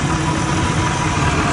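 Outboard motor of a Fast and Rescue Boat running steadily, loud and close, a continuous low engine rumble after a leaking carburetor and hand pump were repaired.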